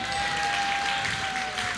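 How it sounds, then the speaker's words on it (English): Audience applause at an awards show, a brief burst of dense, steady clapping from a crowd. "let's give Weird Al another round of applause"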